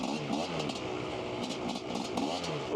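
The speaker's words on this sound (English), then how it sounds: "I'm just giving lots of gas" Dirt bike engine revving hard under full throttle while riding through snow, a continuous close buzzing roar that surges and dips.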